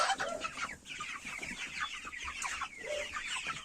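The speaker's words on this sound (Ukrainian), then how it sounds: "Там також бігають домашні маленькі курчата." Small domestic chicks cluck and chatter softly nearby on a farm, a busy overlapping flock with occasional higher squawks, no voices.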